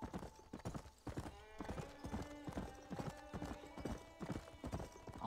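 Horse hooves clip-clop at a steady riding pace in Red Dead Redemption, a close, rhythmic run of hoofbeats with a brief whinny, no talk over them.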